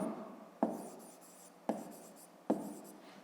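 Three separate short pen strokes scratch across paper, each a sharp scrape that fades away, while a 5th-grade math exercise is worked out by hand; no voice is heard.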